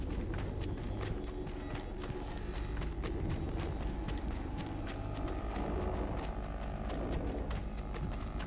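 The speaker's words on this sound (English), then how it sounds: "They've only left a single horse. We'll have to ride together." Horse hooves clip-clopping at a brisk run in Assassin's Creed III Remastered, a steady rhythmic beat that stays loud and continuous beneath a dense wash of game ambience.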